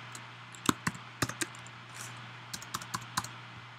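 Typing on a computer keyboard, a run of sharp separate key clicks in two short bursts, close and fairly quiet, with no talk.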